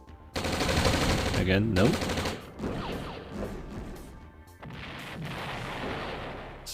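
Gunfire from units in the real-time strategy game OpenRA Red Alert, with rapid loud bursts and booming shots that sound like artillery and machine guns, going on steadily with a voice talking over it.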